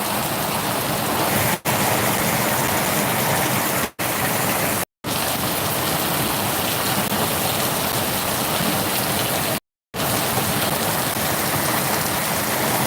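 Heavy rain with big drops pounds steadily on a concrete surface, a loud, dense, continuous roar with only a few brief dropouts.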